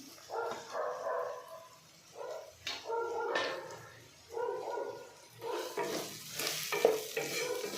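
Finely chopped carrot sizzles softly in a pan with turmeric powder, with quiet bursts of stirring and scraping coming and going over a low frying hiss.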